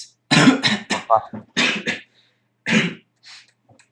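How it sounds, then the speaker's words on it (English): A harsh, raspy fit of coughing, several hacking bursts in quick succession, close and loud, tapering into fainter throat sounds. "She broke into a fit of coughing."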